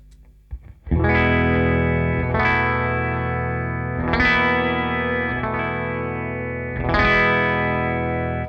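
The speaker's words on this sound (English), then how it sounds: "There it is, that's that classic Fender." Electric guitar chords strummed through a warm Fender amp with slight breakup, four ringing strums spaced a couple of seconds apart, with no talking.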